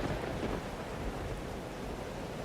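Steady thunderstorm noise from the game Life is Strange: Double Exposure, with a continuous broadband roar of rain and wind and faint rumbles, with no talking.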